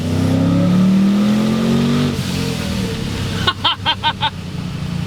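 A 400 hp supercharged Lincoln Town Car engine roars steadily at low pitch, then eases off, followed by a quick series of four or five sharp pulses near the end.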